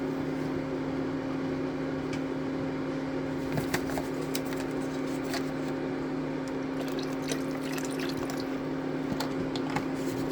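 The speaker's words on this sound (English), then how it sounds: "we're going to add a little bit of water and then a little bit of beef broth" Water and beef broth are poured into a pot with meat for a Qatari mahboos, a soft, continuous liquid rush over a steady low hum, with a few small clinks and splashes standing out near the middle and end.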